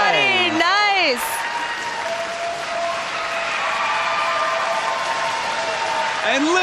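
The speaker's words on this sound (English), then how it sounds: "And listen to the crowd in Lowell respond to Sumie." A wrestling crowd at a Ring of Honor event in Lowell cheers and applauds steadily, a broad sustained roar throughout, with a commentator talking over it at the start and end.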